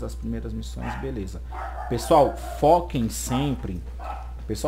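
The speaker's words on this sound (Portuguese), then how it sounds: "se vocês ouviram a minha cachorrinha latindo aí" A small female dog barks in the background during a Warframe gameplay guide, with short yips breaking through steady Portuguese narration that carries on throughout.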